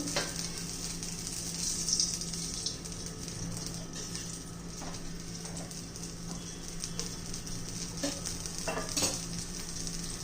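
Oil heats and sizzles in a pan for a fenugreek tomato chutney, a fairly quiet, steady crackling hiss over a low hum, broken by occasional light clinks of utensils.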